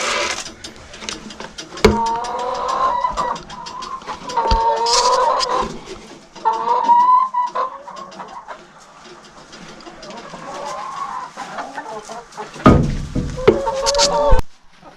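Chickens in a backyard coop make scattered clucks and squawks, some close and some farther off, between short bursts of mechanical clatter and rustling. Gaps of near quiet fall between them.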